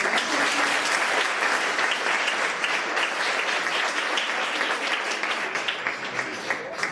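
Enthusiastic audience applause after a Pecha Kucha talk at the TESOL Macedonia Thrace 2014 evening, loud and dense, fading slightly near the end.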